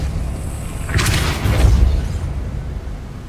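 A Depulso force spell in Hogwarts Legacy releases a loud blast, a broad whooshing boom that swells near the middle and then fades into a low rumble.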